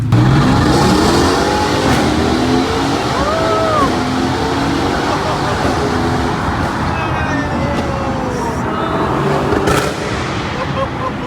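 Mercedes AMG GTS sports car engine pulling hard through long gears, a loud continuous roar with rising tones and a shift around the middle, busy road and wind noise throughout.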